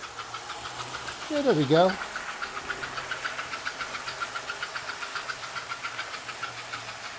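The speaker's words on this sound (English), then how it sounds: "Hear that choo-choo?" A 1948 American Flyer 4801A toy freight train runs with a steady, rhythmic chuffing clatter and a brief whistle near the start. Someone speaks briefly over it.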